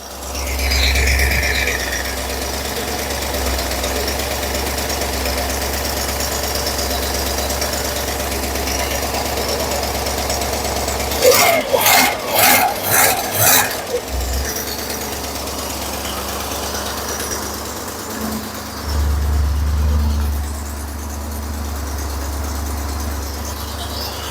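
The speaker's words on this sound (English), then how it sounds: "It's idling right at 900 RPM like it's supposed to." A Porsche 928 V8 idles steadily at about 900 RPM, a continuous low hum that holds even throughout, broken midway by a brief run of sharp mechanical clicks.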